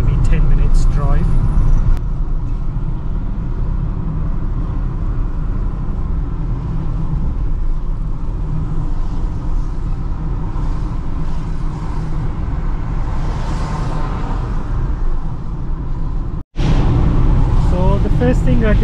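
Inside an Uber car driving through Nairobi traffic, a steady loud road and engine rumble fills the cabin throughout with a brief dropout near the end, no distinct talk.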